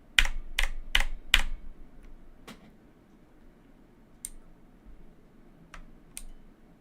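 A loud computer keyboard clacks in a quick burst of four sharp keystrokes, then scattered single taps with pauses between them, close and clear with no talking.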